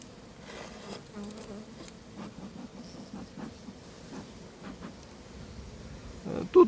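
Bees buzz steadily and close by, many wings humming at once with a soft rustling underneath, and a louder burst comes near the end.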